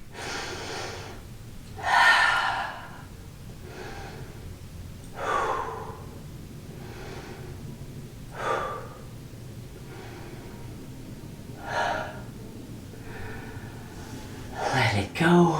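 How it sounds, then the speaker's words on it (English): Slow, deep breaths during a stretching workout, long audible inhales and exhales repeating every few seconds, close to the microphone and breathy. "Let's slow down our breathing."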